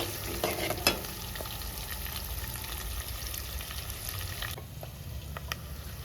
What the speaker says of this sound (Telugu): కరివేపాకు కూడా వేసుకొని తాలింపు మంచిగా ఫ్రై చేసుకుందాం.